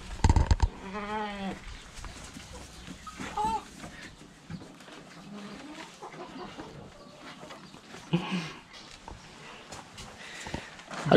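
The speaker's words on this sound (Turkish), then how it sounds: "Keçi bu ya. Keçi her şeyi yer." Goats and chickens on a small village farm bleat and cluck amid scattered rustling and movement, several wavering bleats rising near the start with people talking quietly in between.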